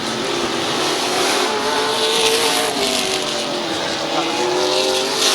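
Race trucks roar continuously at Midvale Speedway, a loud, steady wall of engine drone with shifting pitch as they power around the track, with no break in the noise.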